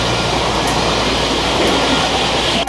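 Mumbai local train running, a steady, loud, continuous rumble of wheels and carriage noise filling the whole moment, with no voices.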